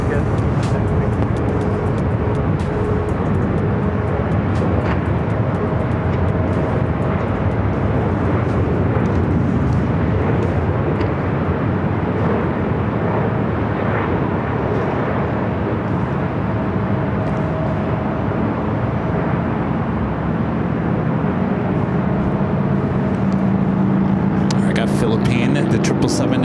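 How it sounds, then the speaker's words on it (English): A Boeing 777-300ER jet taking off from LAX's north side, a loud sustained roar of engines that holds throughout at close range, with voices talking over it. "The 777 at 300ER heading up here for our north side takeoff"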